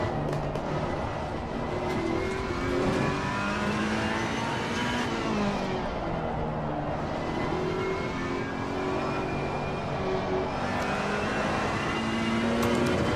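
A GT3 race car engine in Assetto Corsa Competizione revs steadily and loudly, its pitch climbing and falling through gear changes across the whole stretch, with no talking.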